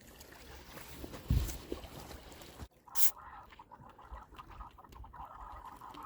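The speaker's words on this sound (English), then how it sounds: "Somebody's riding in a boat or something" A boat heard over a two-way radio, with wind buffeting the transmission: a faint, steady rushing roar that cuts out abruptly partway through, followed by a short burst and quieter static.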